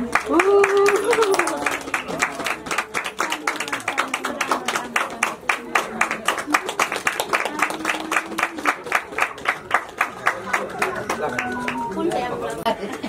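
Guests at a Nepali wedding clap in a quick, steady rhythm around the bride and groom, with crowd chatter and voices underneath the applause.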